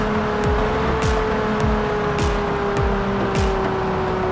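Engine drone of a Lamborghini Aventador SVJ driven in the mobile game Car Parking, a steady loud hum that repeatedly rises and drops in pitch with brief gear-change breaks.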